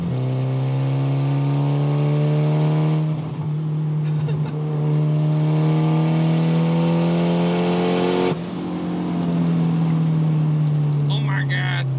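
Nissan 240SX S14 with an SR20 turbo engine and side-exit HKS exhaust, droning loudly and steadily with a strong harmonic engine tone that rises and dips through gear changes, turbo whoosh throughout, with a brief pause near the middle.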